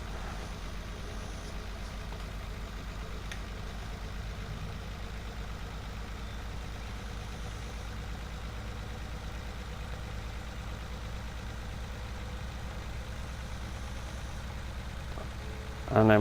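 MAN TGX truck with a 500-horsepower engine in Farming Simulator 19 pulls slowly up a hill: a steady, droning low engine hum that holds level and continuous throughout, with a brief louder noise at the very end.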